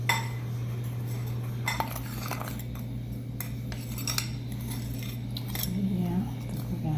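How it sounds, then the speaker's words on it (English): A spoon stirs sugar into flour in a mixing bowl for a home-kitchen peach cobbler, giving light repeated clinks and scrapes over a steady low hum. "I'm going to put a little of the sugar in there and stir it together and try to get the lumps out."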